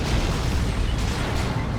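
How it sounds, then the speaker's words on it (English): In Dawn of War 2, a plasma cannon shot lands as a heavy, rumbling explosive boom that fills the moment, loud and dense with a sustained roar and no voices. "Plasma Cannon shot going in from where?"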